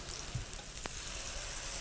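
Loud, steady hiss of batter frying in a hot pan, a constant crackling sizzle close up with one brief click.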